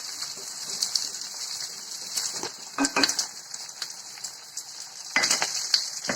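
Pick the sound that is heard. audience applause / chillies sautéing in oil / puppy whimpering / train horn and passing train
chillies sautéing in oil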